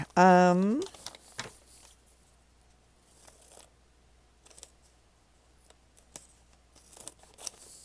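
Scissors snip through paper in a journal with faint, scattered clicks and rustles, after a brief spoken word at the start.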